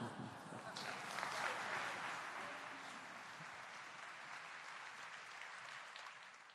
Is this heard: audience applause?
yes